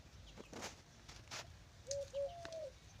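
A few soft cooing calls from pigeons, close by, over faint outdoor background noise and light rustling.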